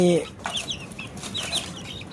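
Soft, scattered clucks and peeps from a flock of 1.5-month-old native chicks on a farm, faint and close, with a brief louder call at the start.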